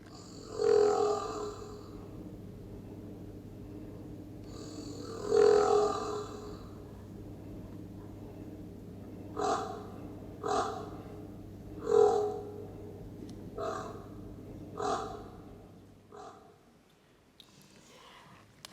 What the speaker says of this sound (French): On va l'écouter, ce moa, vous allez voir, c'est assez impressionnant.